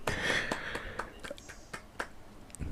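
Hand claps land one at a time in an irregular run of about seven sharp, dry hits at moderate loudness, spaced apart over a faint background.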